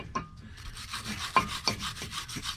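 A brush scrubs loose rust from inside a front brake part on a 2012 Nissan Rogue 2.5 S, giving soft, scratchy rubbing strokes in quick uneven bursts, close by and fairly quiet.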